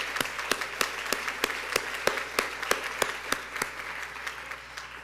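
Applause from a convocation audience at a college reunion, with sharp individual claps standing out at a steady rhythm over a softer wash of clapping throughout, moderately near.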